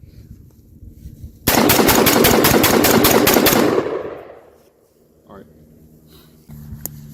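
A semi-automatic M4A1-style AR-15 fitted with an AZR-15 three-position regulator fires a fast string of about a dozen loud, closely spaced shots outdoors, followed by fading echo.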